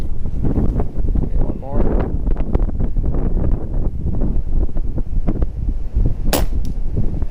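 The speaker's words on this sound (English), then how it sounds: "Wow, that wind is blowing me around." Gusty wind buffets the microphone outdoors at an airgun shooting range, a loud continuous low rumble with a sharp pellet shot cracking through near the end.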